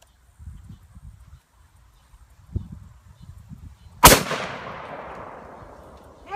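A single Smith & Wesson 500 handgun shot fired at a cinder block on a farm, a sharp, very loud blast followed by a long rolling echo. It comes after a stretch of quiet rustling and soft thumps.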